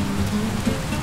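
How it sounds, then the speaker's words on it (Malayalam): Rain falls steadily in the video game Teardown during a thunderstorm, a constant hissing wash with a faint spattering patter that stays even and unbroken. "പുറത്ത് മഴ പെയ്യണ്"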